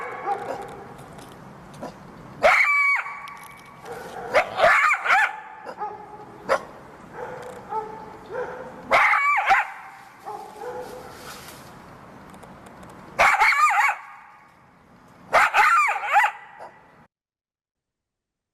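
A mother coyote barks insistently in repeated bursts, sharp yips and barks mixed with whining howls, fairly close and loud, falling silent at the end.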